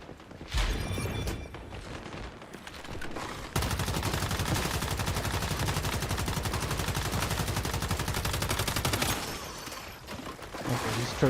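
Automatic turrets firing during Once Human gameplay, a sustained rapid burst of gunfire lasting several seconds, loud and continuous with brief shots before and after, no talking.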